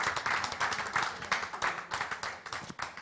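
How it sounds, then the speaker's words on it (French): A crowd applauds steadily for about three seconds, dense clapping with rhythmic surges, fairly close and continuous. "Je vous demande de les applaudir."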